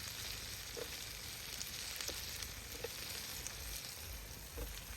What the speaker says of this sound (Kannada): ಈಗ ಟೊಮೊಟೊ ಕಟ್ ಮಾಡಿ ಹಾಕ್ತಾ ಇದ್ದೀವಿ